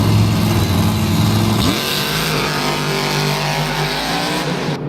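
Two black-and-green Monster Jam trucks, Gravedigger and Monster Energy, race at an arena event in Lyon, France, their engines roaring loud and constant, and the pitch drops sharply midway.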